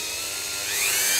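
A Dremel 4000 rotary tool whines steadily up close, its pitch climbing and growing louder as the speed is raised toward the top of its range.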